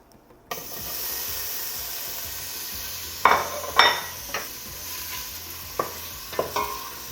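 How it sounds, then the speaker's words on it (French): Onions frying in very hot oil for a Réunion Chinese cabbage fricassee, a steady sizzle starting abruptly and running throughout, broken by several sharp clatters of a utensil stirring against the pan. "on fait revenir les oignons pendant 1 à 2 minutes dans de l'huile bien chaude"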